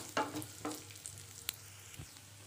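Cashew nuts fry in a little ghee at the edge of a pan used for pumpkin halwa, giving a soft, quiet crackle broken by a few sharp clicks and taps from stirring.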